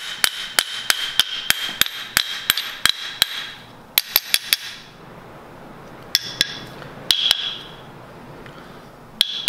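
A hammer taps a Japanese hand plane (kanna) blade into its wooden block, giving hard, ringing, almost metallic strikes. A quick run of steady taps is followed by sparser groups of blows, close and loud with no talking.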